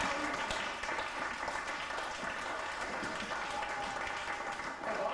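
Applause from a concert audience in Vaduz for a Swiss band, a steady wash of many hands clapping at even loudness throughout.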